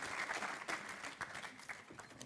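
Audience applause at an awards ceremony for an entrepreneurship prize, a steady wash of many hands clapping at moderate, somewhat distant volume, with a few louder bursts rising and falling.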